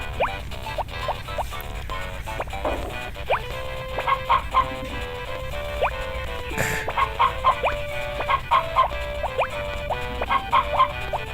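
Chickens cluck in the Harvest Moon: Friends of Mineral Town farming game, giving short repeated clucks and chirps scattered over steady background game music, with no talk.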